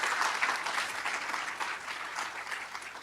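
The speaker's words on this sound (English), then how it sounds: "So we give them a round of applause." An audience at an evening lecture on the Constitution and Dred Scott applauds steadily with even, continuous clapping from a moderately sized crowd, heard at a distance and fairly soft.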